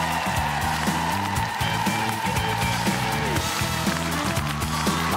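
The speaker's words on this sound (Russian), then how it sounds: "Аплодисменты нашим актерам." Studio audience at a Russian TV improv comedy show applauding the actors, a dense, steady wash of clapping with loud music thumping underneath throughout.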